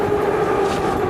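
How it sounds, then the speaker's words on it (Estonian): A Tbilisi metro train runs through the underground with a steady rumble and a sustained tonal whine, close and continuous for a brief moment. "Igal juhul, Karl, selline on Tbilisi metroo."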